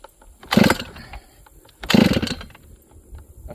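Two loud, short bursts from a chainsaw being pull-started after its carburetor was reset to factory settings, each a brief sputtering engine catch that dies quickly, with quieter pauses between.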